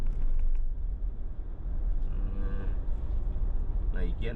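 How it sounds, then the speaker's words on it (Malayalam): A large buffalo is led along a village way with its young calves, giving a low lowing call midway through over a steady, rumbling outdoor background, with a brief voice near the end. "ഇതാ എരുമ ചെറിയ മക്കളെയും കൊണ്ട് പോകുന്നുണ്ടോ"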